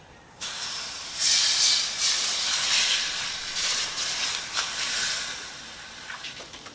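Curry paste with shrimp paste frying hard in a hot wok in a home kitchen, a loud, steady hiss and crackle of sizzling that starts abruptly and carries on close by without any voices.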